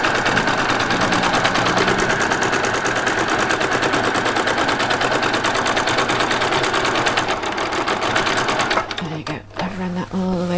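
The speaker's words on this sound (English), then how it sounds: "I'm going to run all the way back down again from there with the zigzag stitch" A sewing machine runs a zigzag stitch on a Christmas party dress with a fast, steady mechanical whir held close, stopping near the end with a few clicks.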